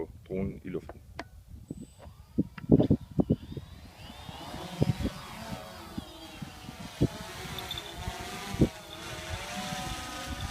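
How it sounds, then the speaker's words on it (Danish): A small drone spins up and lifts off outdoors at a falcon centre, its rotor whine rising and then holding steady as it flies. Sharp handling knocks come first, and people talk nearby. "Lad os få dronen i luften."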